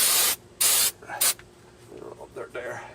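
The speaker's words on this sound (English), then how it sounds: "So basically use brake cleaner, you just spray the shit out of it, and that's it." Brake cleaner sprayed onto a car's brake rotor during a brake job: three sharp, loud aerosol hisses in quick succession, then quieter shuffling and faint voices.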